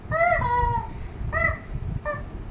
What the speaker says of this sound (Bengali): একটা মুরগি। মুরগি।